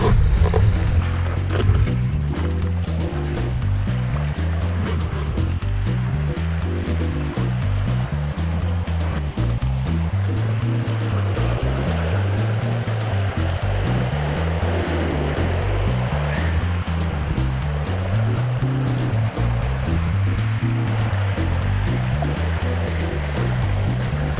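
Ocean waves wash around an inflatable stand-up paddleboard at sea, a steady close roar of water with rhythmic low surges rolling in about every couple of seconds, with no voices.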